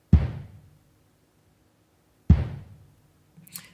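A dampened tom layered with a room kick, making a wide kick drum for a jazzy kit. Two deep, booming hits sound alone with a long gap between them, followed by a faint shuffle near the end.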